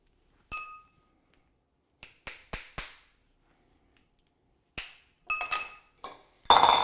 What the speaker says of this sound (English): we are going to crack our ice.